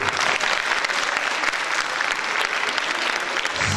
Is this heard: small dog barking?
no